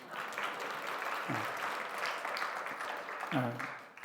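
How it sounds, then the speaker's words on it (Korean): Congregation applause after a special song at a Korean New Year thanksgiving church service. Soft, steady clapping from the gathering continues throughout with faint voices mixed in. "특송 수고했다고 박수 보냅니다."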